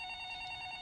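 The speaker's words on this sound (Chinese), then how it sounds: "你听到她的电话响了" A telephone rings with a brief electronic tone in an office, steady and moderately close, with no talk over it.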